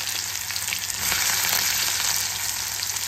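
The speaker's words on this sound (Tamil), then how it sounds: "இதில் வந்து கடுகு போட்டு கடுகு வந்து நல்லா வெடிச்சிட்ருக்கு" Mustard seeds crackle and spit in hot oil alongside frying onions for a prawn thokku, a dense continuous sizzle close up that swells slightly partway through, with no voices.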